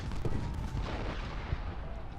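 Artillery fire from cannon batteries in the Civil War strategy game Ultimate General: Gettysburg, a steady rumble of low booms and gunfire with a few sharper reports, all at a constant moderate loudness.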